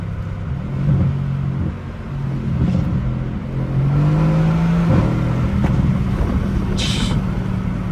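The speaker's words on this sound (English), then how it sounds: "Let's see if we get some downshifts over here." Supercharged pre-facelift Mercedes C63 AMG revving hard with rising engine pitch and blips through downshifts, a loud, continuous roar from inside the car while driving.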